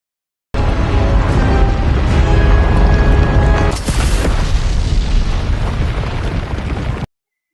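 A meteor striking Earth in a film unleashes a massive, deep explosion that roars continuously, then a second heavy blast surges midway and rumbles on loudly until the sound cuts off abruptly.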